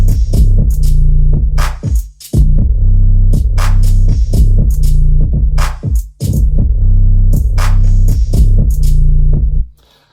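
Heavy, deep 808 sub-bass notes boom under crisp electronic drum hits in a drum and bass track, a loud, steady beat that pauses briefly twice before fading out at the end.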